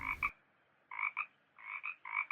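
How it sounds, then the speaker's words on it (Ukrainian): Frog croaking used as a sound effect in a Ukrainian audiobook of Thumbelina: four short bursts of paired croaks, clear and close, separated by brief silences, with no voices over them. "Якось уночі до кімнати пробралася величезна жаба, мокра і потворна."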